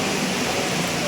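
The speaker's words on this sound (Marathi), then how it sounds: "किती मस्त धबधबा ते ना." Waterfall near the Ekvira Devi temple in rainy weather, a constant broadband rushing wash of falling water, steady and even for the whole moment.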